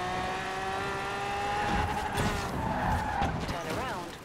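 A car in Forza Horizon 4 held at full throttle, its engine whining steadily with rising and falling pitch and tyres squealing, loud and close for the whole stretch.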